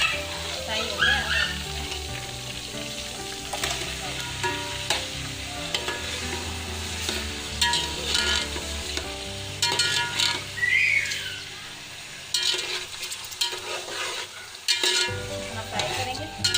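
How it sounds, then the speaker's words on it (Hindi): Chicken frying with garlic and ginger in a pan for chicken pulao, a steady loud sizzle with stirring and scraping throughout, with no talk. "लहसुन अदरक फ्राई हो जाएगा तो हम उसमें चिकन डाल के फ्राई करेंगे"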